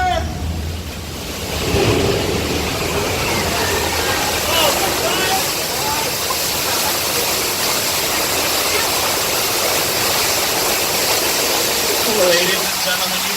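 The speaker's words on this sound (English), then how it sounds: "Water!" Water gushes loudly during the earthquake simulation on the Universal Studios Hollywood studio tour, a steady close rushing roar mixed with a low engine rumble and wind-like noise, with brief voices in the crowd.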